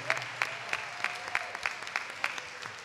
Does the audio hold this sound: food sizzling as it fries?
no